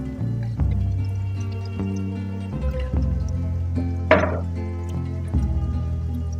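Canned diced tomatoes with their juice glop and splash into a pot for Maltese kapunata, a few wet plops and drips over a low hum, one brief sharper splatter midway.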